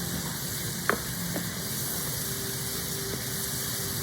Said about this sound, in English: Go ahead and stir everything up